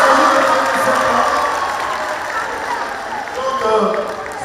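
An audience applauding at a festival panel, a steady wash of clapping and crowd noise that fades slightly then swells again near the end, heard from within the room.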